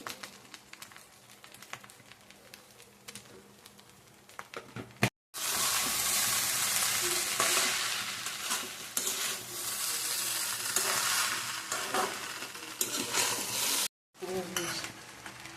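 Rice for amrito polao stirred and mixed in a hot pan, a loud continuous sizzle with scraping and clinking of the utensil, quieter stirring at the start and a brief break near the end.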